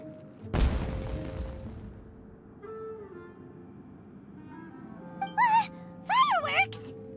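A single sharp firework bang goes off in Genshin Impact, fading into ringing game music, followed by short character voice exclamations.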